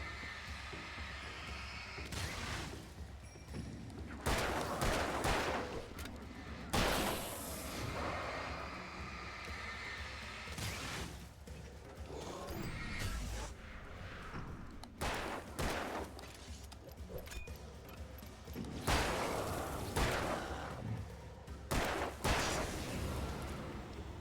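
Rapid bursts of video game gunfire crackle through dense, busy combat noise, with volleys recurring every few seconds and no clear talk over them.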